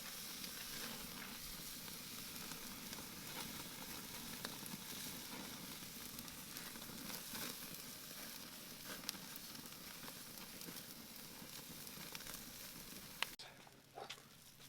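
Reverse-seared tomahawk steaks sear in a pan, making a faint, continuous crackling sizzle that runs for a long stretch and cuts off abruptly near the end.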